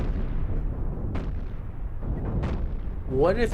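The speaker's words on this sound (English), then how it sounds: "layer stack these cannons a little bit so when they broadside" Heavy booming broadside cannon blasts from ships in the video game Cosmoteer roll through a dense, rumbling battle din, with a couple of distinct thuds and a rising whine near the end.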